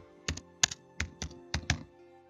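Keys tapped on a computer keyboard while a search for a notes app is entered in a Windows store search bar, about seven distinct clicks in two quick pairs and singles, close and clear with no talk.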